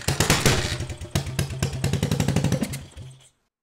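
Suzuki GN400 motorcycle engine kick-started and catching, with rapid close popping firing pulses that stutter, settle into a brief run, then die away into silence.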